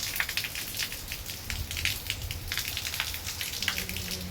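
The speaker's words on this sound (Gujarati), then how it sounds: "અત્યારે કંઈક વરસાદ ચાલુ હોય આ રીતે." Steady rain pouring outdoors during a monsoon evening in a Gujarati village, a dense continuous patter of drops with scattered louder splashes, no talking.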